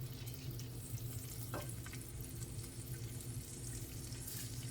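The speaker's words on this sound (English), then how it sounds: "So I added the diced ham to the skillet." Diced ham frying in a skillet, giving a soft, steady sizzle at low volume with faint stirring movements, heard alone without talk.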